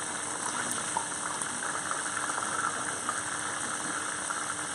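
Pork wontons frying in hot oil in a pan, a steady dense crackle with small spits and pops throughout, fairly close and continuous, with no voices.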